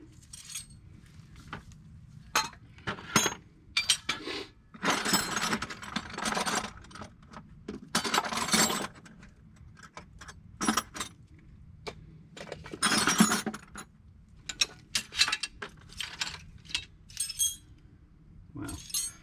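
Metal wrenches clink and jangle as someone rummages through them in a garage while working on a 1962 C10. Scattered bursts of clatter are separated by quiet gaps, close up and fairly soft.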